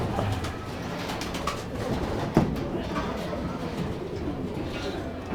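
Racing pigeons cooing inside a dirty loft in the Philippines, soft murmuring coos over a busy background hum with a brief sharp knock partway through.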